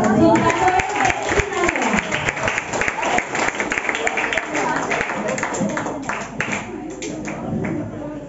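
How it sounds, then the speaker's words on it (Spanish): An audience at an evening cultural event applauds warmly to welcome Sinaloan tambora dance performers. Dense clapping and crowd cheers start loud and gradually thin out, with voices mixed in. "Vamos a recibirlos con un fuerte aplauso."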